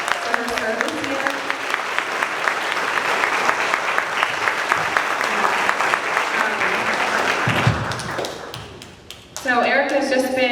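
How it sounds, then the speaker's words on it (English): An audience at a fifth-grade moving-up ceremony applauds a departing teacher with a steady, dense round of clapping for about nine seconds. A voice then begins speaking as the clapping fades. "if you just give her like one more round of applause for her service here"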